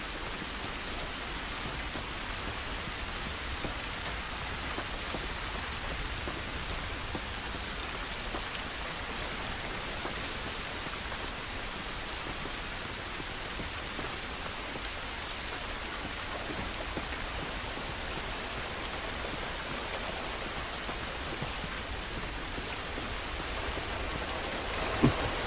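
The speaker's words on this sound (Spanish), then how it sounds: "Esta lluvia no nos va a ayudar." Steady rain pouring outdoors in The Last of Us Remastered on PS4, a constant even hiss of falling drops with a faint low rumble beneath, unbroken for about twenty-five seconds with no voices.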